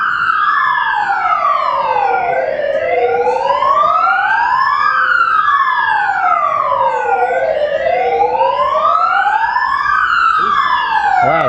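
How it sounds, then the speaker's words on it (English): Fire engine sirens wail on a Sydney street at early morning, loud and close, rising and falling in long sweeping cycles with overlapping tones from more than one truck. "Oh, it's a fire engine."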